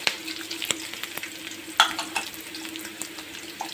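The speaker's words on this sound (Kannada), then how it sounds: "ಜೀರಿಗೆ ಹಾಕ್ಕೊಂಡು ಚೆನ್ನಾಗಿ ಫ್ರೈ ಮಾಡ್ಕೋಬೇಕು" Cumin seeds frying in hot oil for a drumstick-leaf chutney, a close crackling sizzle with a few sharp pops and a spatula clink, no voices.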